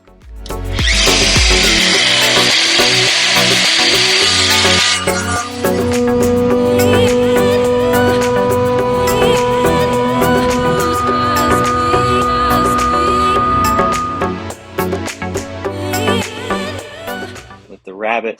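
A handheld power router cuts a rabbet around the edge of a wooden chalkboard frame, a loud sustained whine with grinding wood-chip noise that runs steadily for most of the clip before spinning down.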